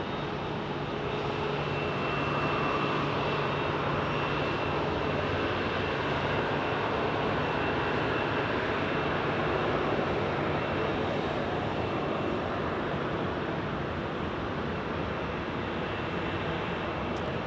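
An airliner in special livery at Phoenix Sky Harbor airport produces a steady, broad jet engine rumble with a faint high whine, holding at an even loudness throughout as it taxis or passes at a moderate distance.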